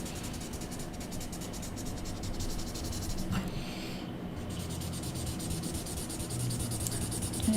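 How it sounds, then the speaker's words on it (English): A smudge stick blends pencil shading on a bee sketch on paper, giving continuous dry rubbing strokes, close and fairly loud, in a steady back-and-forth rhythm with no voices. "Now I'm going to use my smudge stick in the opposite direction that I actually used my pencil"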